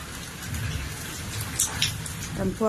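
Heavy rain pours down in a steady broadband hiss, close and continuous, with a few brief voice sounds near the end.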